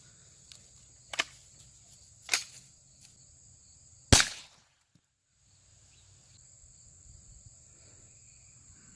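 CCI .22 LR shotshell rounds fired at apples outdoors, three sharp cracks of rising loudness spaced a second or two apart, with insects chirping steadily in the background.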